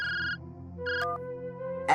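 An electronic ringtone chirps in short repeated bursts over a low steady background hum, fairly close and clear.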